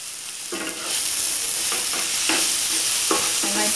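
Onion, tomato and cashew sauté in a pan as a steady, close sizzle, with a utensil scraping through the mixture in several separate stirring strokes.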